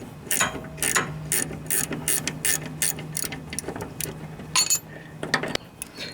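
A narrow half-inch ratcheting wrench clicks rapidly while unscrewing fine-threaded bolts on the steering linkage of a Craftsman riding lawn mower, close repeated bursts of metallic ratchet ticks with short pauses between strokes, no voices.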